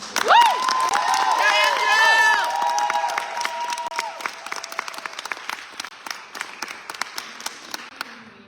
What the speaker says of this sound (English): And to my collaborators this afternoon, Christian and Andrew, please give a round of applause